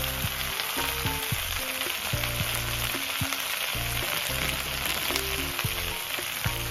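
Sliced okra (bendakaya) frying on low heat in a pan with salt, a dense, even sizzle with faint crackles, steady and close, alongside an intermittent low tonal hum.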